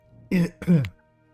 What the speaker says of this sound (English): Coughing like crazy.